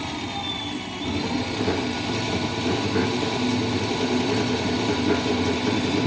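An electric scooter motor with an unbalanced wheel runs steadily nearby, giving a continuous whirring hum with rattling vibration that rises slightly after a second and holds.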